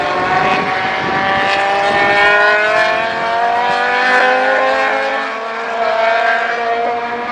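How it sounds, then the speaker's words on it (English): Formula 2 racing cars at Oulton Park howl past on track, several engines overlapping with rising and falling revs, loud and continuous throughout with no voices. "Chaos of the Formula 2 cars, they sound amazing, don't they?"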